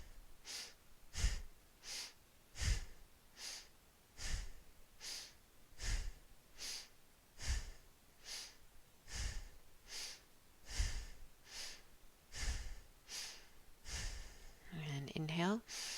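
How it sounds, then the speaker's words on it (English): Rhythmic breathing at about one breath per second, a steady train of sharp nasal inhales and exhales, close and fairly loud, with a brief tonal vocal sound near the end. "take a clearing breath, inhale, exhale"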